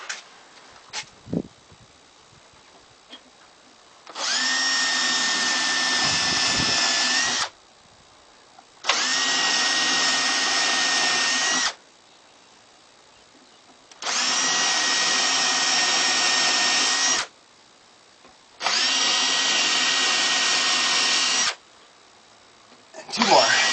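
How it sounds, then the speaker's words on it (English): Power drill boring pilot holes into wood, four loud sustained bursts of a few seconds each separated by brief pauses, close up, with light handling noises in between. "I'm going to drill some pilot holes."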